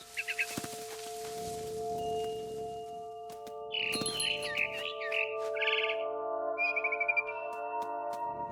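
Bird chirping in the video game What Remains of Edith Finch, with several short bursts of tweets over a steady ambient game soundscape, with no talking.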